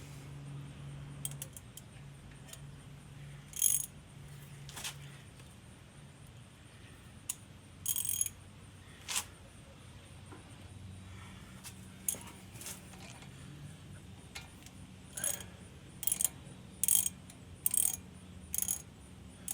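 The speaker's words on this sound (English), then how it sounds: "Obviously you want to switch your socket back over to tightening instead of loosening" A socket ratchet tightens a brake caliper bolt on a car, giving short bursts of fast, quiet clicking scattered through the clip at intervals, with low background hum between.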